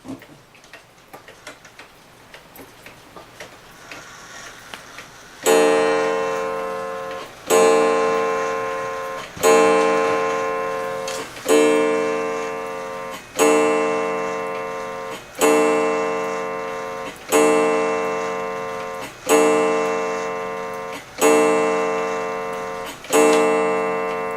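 A 1920s Seikosha school house clock ticks steadily and close by, each beat ringing with a bright metallic resonance that decays slowly. The first few seconds hold faint, quick ticking before the loud, evenly spaced strikes begin.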